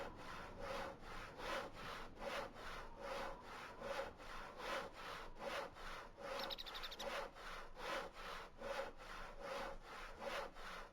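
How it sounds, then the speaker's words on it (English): A hacksaw cutting through metal in the video game Voices of the Void, with about twenty even, rhythmic back-and-forth strokes that are steady and fairly quiet. "This is a quality hacksaw."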